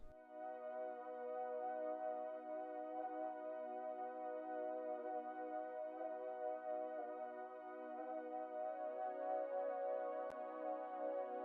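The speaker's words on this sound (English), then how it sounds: "So we have this kind of pad synth that goes throughout the song." A sustained pad synth drone holds steady chords as part of a song, rich in stacked harmonics and swelling slightly brighter toward the end, playing alone without voices.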